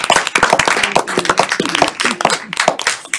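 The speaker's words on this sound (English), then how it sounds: "if we could just give one more round of applause for everyone" Close, loud clapping from a small group at a state board meeting, with sharp, irregular hand claps in an energetic round lasting a few seconds.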